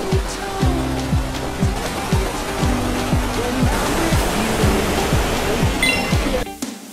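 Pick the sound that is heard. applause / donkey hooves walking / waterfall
waterfall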